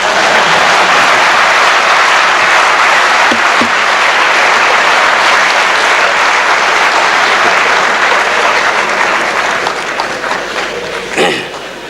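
Sustained, loud applause fills a parliamentary chamber at a tribute to the Chadian president Hissein Habré, dense clapping from many deputies that continues nearly twelve seconds before thinning out.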